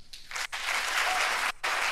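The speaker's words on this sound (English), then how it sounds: "Applause for the answer." Audience applause breaks out for an answer, a brief burst of many hands clapping, cut by two short gaps, loud and close for under two seconds.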